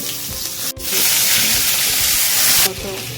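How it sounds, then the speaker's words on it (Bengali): Onion paste and garlic frying in a little oil in a pan for a rohu fish and papaya curry: a steady, loud sizzling hiss that swells after a brief break and holds for about two seconds before easing. "এখন আমি তেলের মধ্যে ফ্রাই করে নিচ্ছি"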